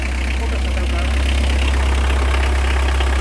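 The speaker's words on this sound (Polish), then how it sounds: "Zgaś Marcinku, zgaś, bo szkoda ropy." A converted VW Golf Country Syncro diesel engine idles steadily and loudly close by, a constant low rumble with a faint knocking texture.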